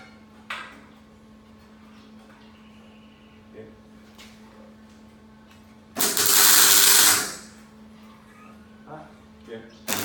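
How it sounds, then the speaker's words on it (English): A MIG welder tacks a truck chassis in a workshop, a single loud, harsh crackling burst lasting about a second amid a steady low hum, with faint talk and clatter around it. "Just using a MIG to tack it."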